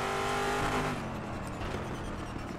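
A racing car engine in the RaceRoom Racing Experience video game revs high and then drops off as it slows, a loud continuous whine with tire noise.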